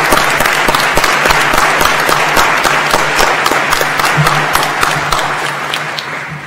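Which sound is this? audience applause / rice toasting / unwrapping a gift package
audience applause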